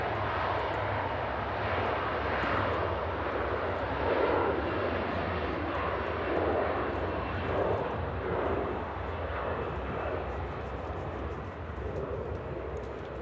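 An Embraer jet takes off from Manchester Airport for Leeds, a sustained, rumbling engine roar from some distance that swells and fades slightly, with no talking over it.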